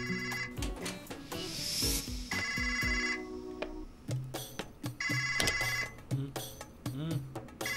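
A mobile phone ringtone playing a repeating electronic melody, heard clearly and fairly near in several bursts with brief gaps between them.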